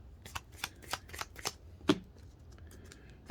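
Yu-Gi-Oh! trading cards being shuffled and cut by hand, a run of crisp riffling bursts in quick succession, close and fairly quiet, with no talking.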